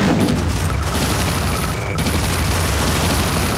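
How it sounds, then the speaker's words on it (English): Dense crackling gunfire and low booms from a battle in a real-time strategy game, continuous and steady throughout with no talk over it. "I'm taking heavy fire."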